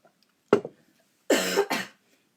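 A single close cough, then after a pause a pair of harsher coughs in quick succession, loud and isolated in an otherwise quiet room.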